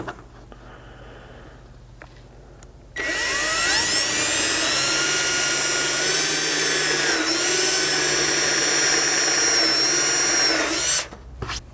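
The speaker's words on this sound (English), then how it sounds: "I'm going to be using a step drill bit, which leaves a nice clean edge on this plastic material as well" A power drill spins a step drill bit through a plastic MOLLE panel for an FJ Cruiser rear hatch, a loud, close whine that starts abruptly, holds steady for about eight seconds with slight pitch shifts, then cuts off.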